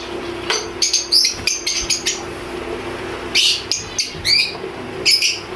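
Lovebirds in a home breeding cage chirp in quick bursts of high, sharp tweets, some clustered and some spaced apart, loud and near over a low steady hum.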